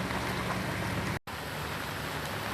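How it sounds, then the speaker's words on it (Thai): Steady rain pours down without pause during days of continuous rainfall in Nakhon Si Thammarat province, Thailand, a dense even hiss that fills the whole stretch, broken by one split-second gap near the middle. "ฝนตกต่อเนื่องติดต่อกันหลายวันค่ะ"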